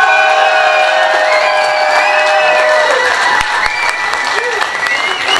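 Loud, sustained applause mixed with cheering and whoops from a collectors' convention audience honoring Marc, a steady roar of clapping with voices shouting through it for the whole stretch.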